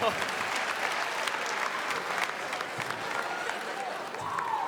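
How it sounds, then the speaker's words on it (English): Audience at a PAX West 2016 gaming convention panel claps steadily and loudly throughout, a dense wash of hands with faint voices mixed in. "Clap again"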